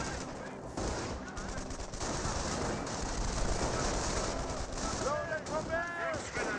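Gunfire from Company of Heroes 1 falls on German Wehrmacht grenadiers as a sustained mix of rifle and machine-gun bursts at mid distance, with a casting voice talking over the battle noise throughout.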